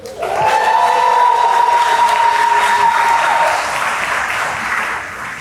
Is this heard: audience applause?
yes